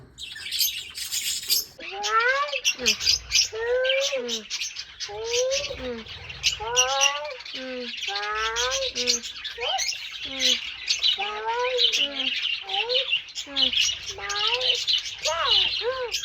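Green parrots let out repeated harsh squawks and screeches, close and loud in quick bursts one after another, with people's voices faintly in the background.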